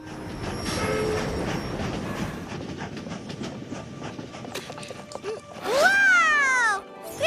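An animated cartoon train rumbles steadily with clattering, then a high whining squeal rises near the end, fairly close and loud.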